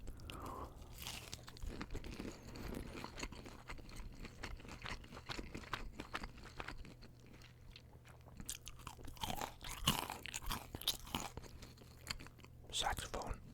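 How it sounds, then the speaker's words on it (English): Crunchy Wendy's chicken tenders being bitten and chewed close to the mic, with soft, subtle crunches and wet chewing repeating irregularly against a quiet low hum. "They look and feel like they would be like very crunchy, but the crunch is pretty subtle"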